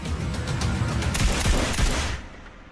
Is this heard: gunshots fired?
yes